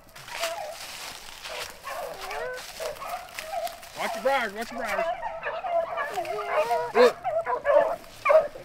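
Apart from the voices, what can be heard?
beagles baying while chasing a rabbit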